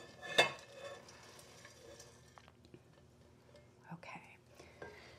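Toasted pecans tumble into a pot with a quick clatter and are then stirred, giving faint scraping and rustling under soft, close speech.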